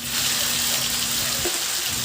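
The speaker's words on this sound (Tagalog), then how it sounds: "Iprito ko muna yung tokwa na hiniwa ko lang ng maliliit na pa-cubes." Small cubes of tofu fry in hot oil in a pan, giving a dense, constant crackling sizzle like steady rain, close and fairly loud, with no voices over it.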